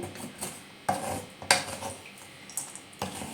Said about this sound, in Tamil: இப்போ நம்ம இதை வறுக்கணும் ஸ்லோ ஃப்ளேமில் வச்சுக்கோங்க